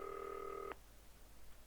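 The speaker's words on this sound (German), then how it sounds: "Telefon." A telephone in the game Not for Broadcast gives one short electronic ring tone that cuts off abruptly, faint and alone.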